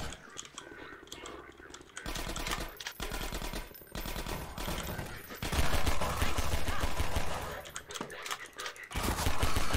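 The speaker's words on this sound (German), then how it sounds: "Raketenfeuer." Rapid, loud bursts of rocket weapon fire in Half-Life 2: Episode One rattle almost continuously, with brief pauses between volleys and heavier blasts toward the end.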